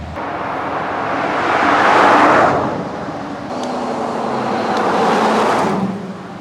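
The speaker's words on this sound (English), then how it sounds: "I wanted to cross the street, but there's way too many cars" Cars rush past one after another on a busy coastal California street, two loud swells of passing traffic rising and fading close by with a steady roadway roar in between, no voices.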